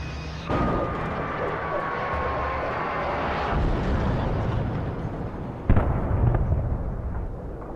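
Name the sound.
helicopter crashing in video game Alan Wake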